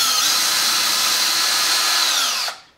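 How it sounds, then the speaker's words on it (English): A power drill with a 9/64 bit bores a small hole through the bottom of a plastic cap turned on its side over scrap wood. It gives one loud, steady, close whine for about two and a half seconds, then quickly stops. "I'm going to turn them on their side, and just drill a small hole in the bottom."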